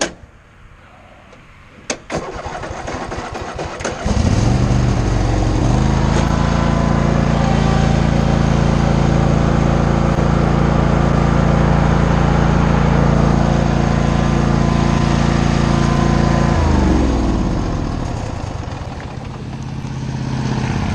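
A lawn mower's engine catches after a brief start-up and runs as a loud, close, steady drone for about thirteen seconds, then winds down and fades as it is throttled back.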